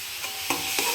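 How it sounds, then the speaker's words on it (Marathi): Spices for a mutton curry fry in oil while being stirred, giving a steady soft sizzle with a few brief scraping strokes, close by and moderately quiet. "आता हे सगळे मसाले छान असे तेल सुटेपर्यंत छान मसाला परतून घेते."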